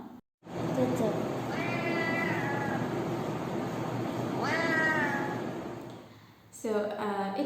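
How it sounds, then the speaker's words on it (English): Two pet cats let out two long, wavering meows a few seconds apart over steady background noise, and a voice is heard nearby. "my two adorable cats"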